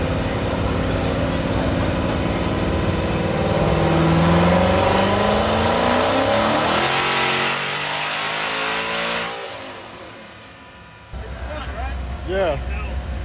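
Boosted car engine on a dyno run pulls up in a long rising rev, peaking loud, then dropping off before another short burst, with people talking and shouting over it.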